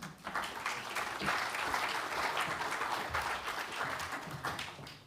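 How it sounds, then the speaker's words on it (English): Conference audience applauding at a health and safety risk management event, steady broadband clapping from a crowd sustained for about five seconds at moderate, even loudness. "Please give them a warm round of applause."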